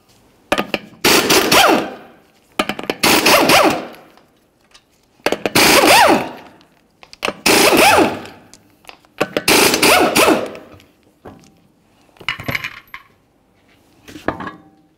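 Lug nuts, five of them at 21mm, are taken off a Mercury Grand Marquis front wheel and the wheel is then removed, heard as separate bursts of close metallic rattling and clanking with short silences between them.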